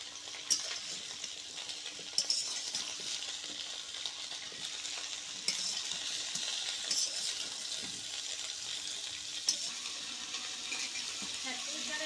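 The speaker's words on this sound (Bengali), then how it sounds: "তেল গরম হয়ে গেছে, আমি এখন সব সবজি ভেজে নেবো ভালো করে।" Steady crackling sizzle of vegetables frying in hot oil throughout, with occasional sharper pops and utensil clinks as they are stirred.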